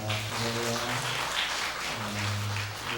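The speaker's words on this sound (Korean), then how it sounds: "다시 한번 힘차게 박수하겠습니다." Church congregation applauding at a Yongdang-dong church gathering after a testimony, steady clapping throughout with sustained musical tones from an organ or keyboard playing underneath.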